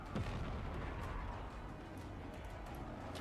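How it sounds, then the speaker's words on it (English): Artillery fire in the real-time strategy game Forts, with one deep, booming blast near the start and then a dense, rumbling wash of distant explosions, and no voices. "Atmospheric artillery."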